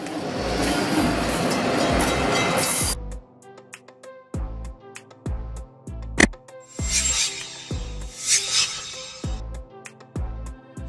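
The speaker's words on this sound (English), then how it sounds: "Transit trains refer to various types of trains used for public transportation within urban areas, including commuter trains, subways, and light rail systems." Transit train in motion, a rushing rumble that gives way to rhythmic clicking of wheels over rail joints, with hissing bursts in between, moderately loud and steady.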